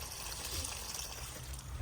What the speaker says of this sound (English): if you just hold it and twist, fresh water will drain out all the way